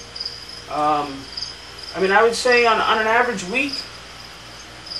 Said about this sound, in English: I'm sure you can hear the crickets chirping in the background.